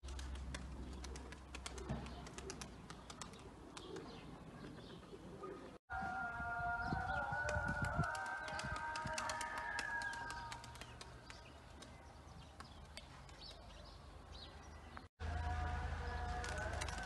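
Pigeons cooing in a loft kept for racing or show birds, a steady layered coo with soft rhythmic pulses, fairly close, with a few brief breaks and faint background noise.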